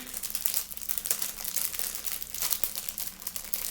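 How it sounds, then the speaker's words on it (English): Crinkling plastic packaging, a steady run of crackly rustles and sharp crunches handled up close, with no voices. "Sorry for anyone who has misophonia with the crinkly noises."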